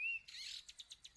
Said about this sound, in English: There's bird song.